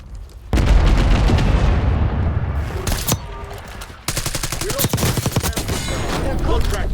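Rapid bursts of loud gunfire in Warzone, sustained automatic fire with sharp cracks, pausing briefly before another heavy volley erupts.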